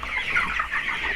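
A dense crowd of broiler chickens on a South African farm clucks and chirps continuously, close and fairly loud, forming an unbroken wash of overlapping calls with no speech.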